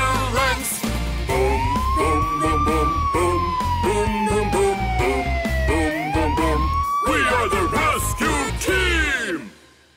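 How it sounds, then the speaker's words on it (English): Cartoon ambulance siren from a children's animated rescue show: a loud rising and falling wail that sweeps up and down repeatedly over a busy music backing, then cuts off abruptly at the end. "wee-you, let's go ambulance"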